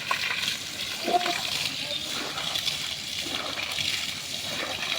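Water sloshes and splashes continuously as it is poured over someone cooling off in 43-degree heat, a steady broadband wash with a brief louder splash, while a voice talks over it.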